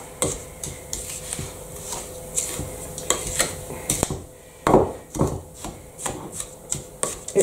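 A homemade fabric softener powder is stirred thoroughly in a container, giving close, steady scraping and gritty rubbing with small clinks, repeating irregularly without talk.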